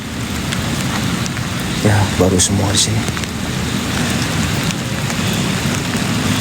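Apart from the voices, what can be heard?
heavy rain with thunder at a graveyard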